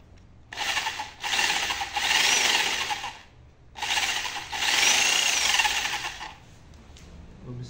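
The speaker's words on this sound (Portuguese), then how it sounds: "usa uma broca mais fina primeiro" A drill bores a hole in an engine with a thin bit. Two long, close whirring grinds are separated by a brief pause, and each one starts abruptly and tails off.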